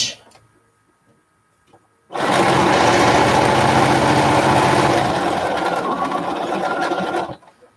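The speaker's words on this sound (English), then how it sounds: "Sew to within 1/4 of an inch." A sewing machine stitches quilt binding in one continuous loud run of fast mechanical whirring lasting about five seconds, starting abruptly after near silence and stopping cleanly.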